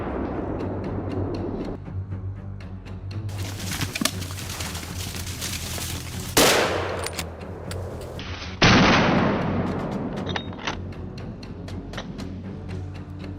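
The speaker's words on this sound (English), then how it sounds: "Seizing the moment, decisive gunshots ring out until the beast staggers." Two loud gunshots at a wild boar on farmland, a couple of seconds apart, each followed by a long rolling echo, over a low steady hum and scattered bird chirps.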